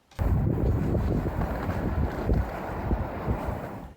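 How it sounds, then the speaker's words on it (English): Strong wind gusts reaching about 53 miles per hour on a stormy December day in Benton County, a loud continuous roar buffeting the microphone with rising and falling surges and no voices. "the winds are playing a factor, seeing gusts reaching 53 miles per hour"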